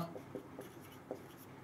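Pen or chalk writing by hand during a Class 12 chemistry lesson, several short scratchy strokes in quick irregular bursts, faint and close, with no talking in between.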